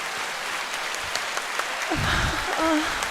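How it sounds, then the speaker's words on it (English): Steady applause from an audience on a podcast, a dense continuous patter of clapping for about three seconds, with a voice briefly cutting in near the end. "Yes, give me the applause."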